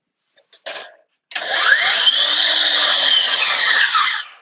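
A cordless FlexVolt battery table saw gives a brief whirring blip, pauses, then spins up into a loud, sustained high-pitched whine that holds steady for about three seconds before winding down.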